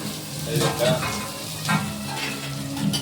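Onions frying in a pan after mustard seeds have popped, stirred with a spoon: a constant close sizzle with soft scraping strokes and occasional light knocks, no voices.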